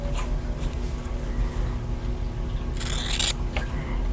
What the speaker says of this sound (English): this doesn't have to be real accurate, that's why it's okay to use your scissors